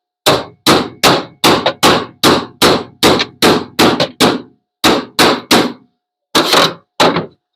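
Steady hammer blows, about a dozen sharp loud strikes in a regular rhythm with brief pauses, as a patch is hammered into place to fit, close by and with no talking.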